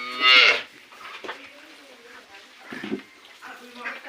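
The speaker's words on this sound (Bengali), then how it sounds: "দেখেন গাইস, গরু কিভাবে দুধ খায়।" A cow gives a loud, close moo at the start, followed by quieter slurping and shuffling noises, with a person talking over the rest.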